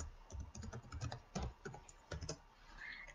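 Rapid keystrokes on a computer keyboard as a password is entered for an online store account, a close, quiet run of irregular clicks and taps with short pauses, no voices.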